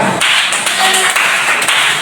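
Classroom applause for a student group after their presentation on the human movement system, a dense, steady patter of many hands filling the room with no talking over it.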